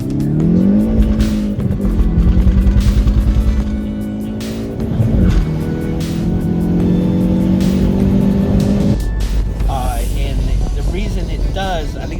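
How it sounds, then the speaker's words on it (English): A stock Hyundai Veloster N launches with wheel hop, its engine revving loudly in rising pulls and its tires squealing and chattering, with voices talking over it. "stock, this car has a lot of wheel hop"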